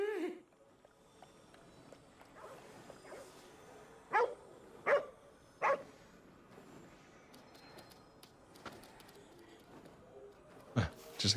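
Dog in the video game Ghostwire Tokyo giving a few sharp barks, scattered singly and in short pairs over a quiet ambient game background, moderately close.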